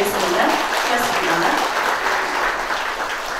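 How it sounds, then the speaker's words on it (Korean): Sustained audience applause fills a hall at a founding ceremony of a lifelong-education association in Ulsan, steady dense clapping with no break. "박수 부탁드리겠습니다."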